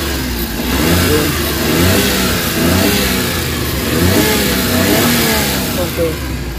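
A Suzuki K6A fuel-injected engine revs up and down in repeated swells close by, while someone talks over the engine note.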